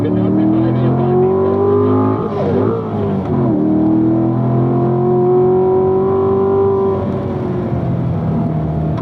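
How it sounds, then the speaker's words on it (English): A race car on a track accelerating hard out of a corner, its engine loud and close with steady rising harmonic tones, a brief dip and bog before pulling again, sustained throughout. "Next one we can start to accelerate off the corner"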